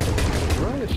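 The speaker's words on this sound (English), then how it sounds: "It's semi-automatic. You can shoot pretty fast with it" Rapid shots from a semi-automatic gun in the video game Depth, several bursts in quick succession under a dense mix of game sounds and a talking voice.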